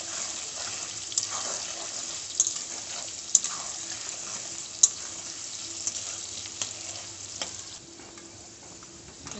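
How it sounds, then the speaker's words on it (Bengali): Potatoes seasoned with salt and turmeric fry in oil in a home kitchen, giving a steady close sizzle with occasional sharp pops and clicks from stirring, and no talking. "দেখুন আলুগুলো ভাজা হয়ে গেছে,"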